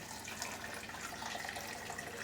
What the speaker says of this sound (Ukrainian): додаємо чисту воду і заливаємо ще на, на пів години